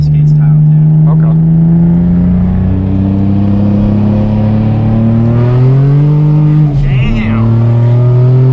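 Turbocharged Nissan 350Z making about 400 wheel horsepower, heard from close inside the car on a canyon road. The engine drones loud and steady, climbs in pitch as it revs, and a turbo whistle rises over it.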